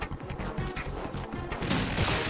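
Rapid gunfire from the video game Metal Gear Solid 2: Sons of Liberty, with dense crackling shots and impacts running continuously under a layer of game music and ambience.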